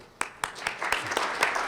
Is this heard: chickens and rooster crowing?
no